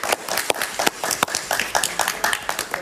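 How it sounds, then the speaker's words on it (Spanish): Studio audience applause for a talk-show guest, Horacio Medina: steady, moderately loud clapping from a small crowd, continuous throughout. "Un aplauso para Horacio Medina."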